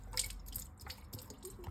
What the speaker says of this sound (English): some of the water's still running out